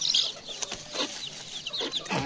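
Farm chickens cluck in short bursts, with several soft calls close by and no voices over them, scattered across a quiet background.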